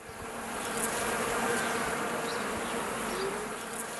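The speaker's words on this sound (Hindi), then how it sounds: "मधुमक्खियों के डंक से बचे बिना उनके छत्ते के पास जाना असंभव है।" Honeybees buzz steadily near their hive in Shulgan-Tash reserve, a dense, continuous droning swarm close by with individual bees flitting past, no voices.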